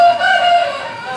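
A rooster crows once, loud and close, a drawn-out call with no other sounds around it.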